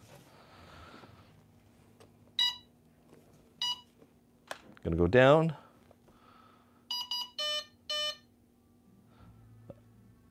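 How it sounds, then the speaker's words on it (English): RC plane electronic speed controller (ESC) in throttle programming mode sends short bursts of sharp electronic beeps, first as single tones and later as a quick run of several beeps. Someone speaks briefly between them, and a whirring noise rises in the middle. "I'm going to get a series of beeps because that's going to tell the ESC that I want to program the the throttle."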